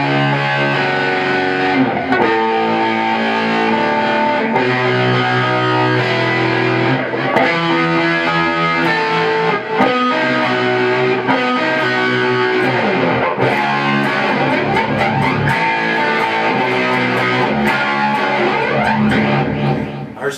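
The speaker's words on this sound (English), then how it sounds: "I put an effects loop in it, so you do hear flanger and some reverb and echo." Electric guitar played through a Marshall amp with an effects loop adding flanger, reverb and echo, working through a song; loud, continuous distorted chords and riffs with sweeping flanged swirls, no talking.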